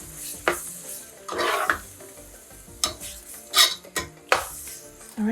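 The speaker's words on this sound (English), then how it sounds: "Mix it all in." A spoon stirs pine nuts into meat stuffing in a pan, with scraping, clinking strokes against the metal and a faint sizzle underneath as the heat is turned off.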